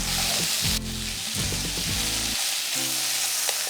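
Broccoli and sausage hit a hot pan already cooking bacon and garlic for cream tteokbokki, sizzling and crackling steadily up close, with a few stirring scrapes mixed in.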